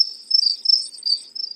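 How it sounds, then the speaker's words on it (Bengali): Crickets chirp at night in a steady high trill that pulses in short bursts, thin and fairly close, with nothing else around. "ঝিঝি পোকার ডাক থেমে যায়"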